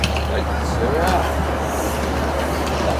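A train pulls into platform 8 at Carlisle station, a steady low rumble and hum of the carriage running throughout, with faint squeals of braking wheels and a voice speaking over the noise.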